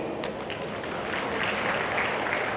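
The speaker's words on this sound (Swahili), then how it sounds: "naomba mimi nipigie makofi" A crowd applauds steadily at a stadium event in Dar es Salaam, a dense, continuous wash of clapping throughout with a few sharper claps standing out near the start.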